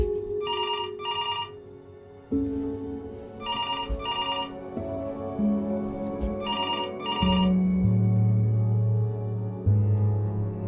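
Repeated telephone ringing from the video game Close Your Eyes: three bursts of bright double rings, each lasting about a second, over a steady low droning musical background.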